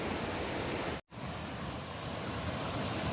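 Steady, dense rush of falling water at Nang Rong Waterfall, Nakhon Nayok, Thailand, with a brief drop to silence about a third of the way through before the roar resumes.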